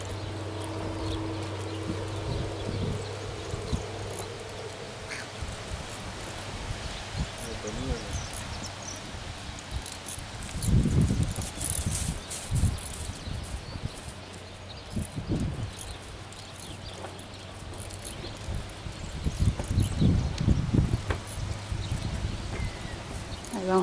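A tobiano horse with a black zaino coat, ridden and worked at an easy gait, its hoofbeats clopping in uneven clusters on the ground, with louder bursts midway and near the end, under someone talking outdoors.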